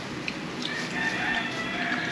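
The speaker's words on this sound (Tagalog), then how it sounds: "Little manok ni Papa Ryan." Rooster crowing nearby, one sustained cock-a-doodle-doo call over a steady outdoor background.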